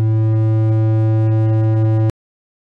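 A synthesized distorted guitar note rings out, buzzy and harmonically rich, holding steady for about two seconds before cutting off sharply into silence.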